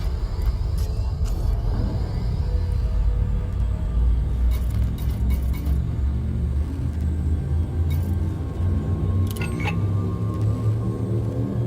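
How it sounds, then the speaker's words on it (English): A frame shift drive charging aboard a spacecraft in Elite: Dangerous, a loud, steady low rumble that builds beneath a sustained hum, with sharp electronic clicks and tones scattered across it and no speech. "Frameshift drive charging."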